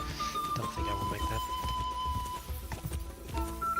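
Horse hooves clip-clopping at a gallop in the medieval video game Kingdom Come: Deliverance 2, a steady rhythmic run under layered game music with the odd snort.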